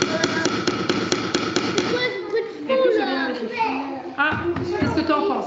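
A hammer taps with a quick run of short, rhythmic blows at close range, then the hits grow sparse as children talk over them.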